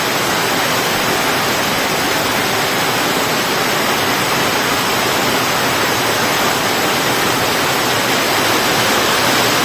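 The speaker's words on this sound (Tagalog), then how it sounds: "Ang lakas ng ulan, mga kaboard." A sudden, heavy tropical downpour roars as a dense, unbroken wash of loud rain, loud and steady from start to finish with no voices.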